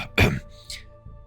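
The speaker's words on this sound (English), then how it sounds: "you hear the sound of a gentle cough coming from the door towards the south" A soft cough, then a quieter throat-clearing sound, muffled as if from behind a door during a tabletop roleplaying game, with faint background hum and no talk.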